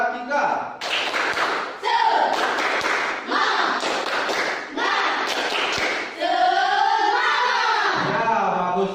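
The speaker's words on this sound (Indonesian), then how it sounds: "untuk menambah semangat kalian, mari kita tepuk semangat" A class of children performs a rhythmic spirit clap, chanting along with sharp, patterned claps and thumps in quick bursts, loud and close, ending in a sustained group shout.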